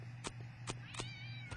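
A cat in the Postal 2 video game meows, a drawn-out mewing call set against a low steady hum with a few sharp clicks scattered through it.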